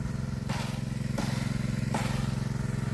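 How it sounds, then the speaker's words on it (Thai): An engine-driven water pump pumping water around a rice field dike, a steady close motor chug with a rapid regular pulse and splashy broadband bursts recurring about every 0.7 seconds. "เอาอันนี้เขาใส่เครื่องสูบน้ำมาสูบรอบคันเทน่าเนี่ย"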